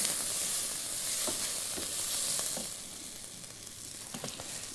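Walnuts fry with onions in a pan for a pumpkin kibbeh filling, giving a close steady sizzle with occasional stirring clicks and scrapes, quieting slightly toward the end.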